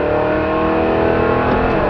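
A 1965 Chevrolet Chevelle's engine pulls hard and loud at a steady high pitch as the car speeds up in second gear, a continuous interior drone with no voices.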